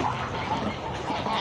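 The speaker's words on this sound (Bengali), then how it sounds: "দেখছেন খাবারের জন্য কীভাবে হাঁস আসতেছে" A flock of hungry farm ducks quacks busily in a dense, continuous chatter as they gather for food, heard up close.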